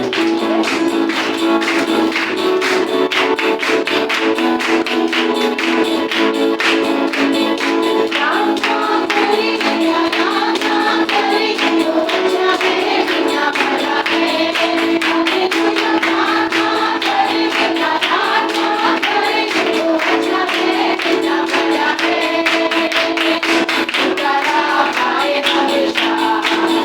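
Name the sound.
congregation clapping hands in worship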